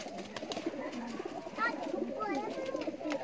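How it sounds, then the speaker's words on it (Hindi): Pigeons cooing in soft, repeated low calls near a coop, with people talking over and around them throughout. "अच्छा ये कबूतर क्यों इस तरह कर रहे हैं,"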